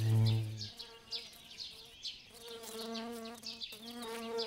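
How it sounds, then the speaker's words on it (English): Mason bees buzz around hollow-stem nest holes, with several close, wavering drones rising and falling in pitch as they patrol, heard alone without talk. "The hollow stems are a favorite with mason bees. They patrol the nest holes,"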